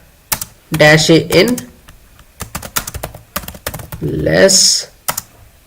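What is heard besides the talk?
typing terminal command on computer keyboard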